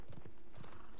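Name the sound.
horse mount galloping in video game Realm Royale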